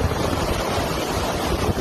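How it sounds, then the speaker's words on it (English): Hurricane Ian's storm surge waves crash ashore in Fort Myers, Florida, a loud, unbroken roaring wash of water with heavy wind buffeting the microphone and no voices. "Hurricane storm surge as Ian slammed ashore."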